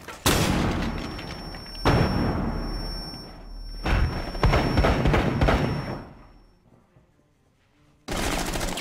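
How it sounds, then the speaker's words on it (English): Flashbang grenade detonations in the tactical shooter game Rainbow Six Siege: several loud, sharp booming blasts with ringing tails, separated by pauses and followed by a near-silent stretch before another abrupt bang. "Popping flashbang."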